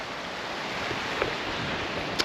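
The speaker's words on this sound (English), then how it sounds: "And obviously the coast, the sea." Steady broadband wash of sea waves on a sunny coastline, continuous surf with a light wind rush and a faint sharp tick near the end, no voices.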